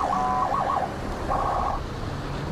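Electronic siren from an armored car security system, a warbling two-tone wail that rises and falls in two bursts over a steady background roar, loud and close.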